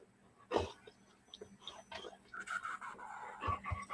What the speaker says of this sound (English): Babysitting my sister's doggy.